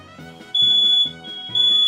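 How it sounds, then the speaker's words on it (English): A smoke alarm sounds two loud, shrill beeps, each lasting about half a second, over a softer pulsing electronic chirp. "Smoke alarm went off."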